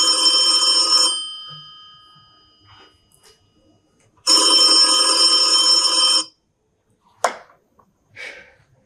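Telephone ringing during a stage play, two loud electronic ring bursts separated by a pause, followed by brief clatter and handling sounds.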